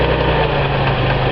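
A Datsun 280Z engine idles with a loud, steady rumble and constant vibration, close by and unbroken, with a vacuum leak from a stuck-open EVAP switch.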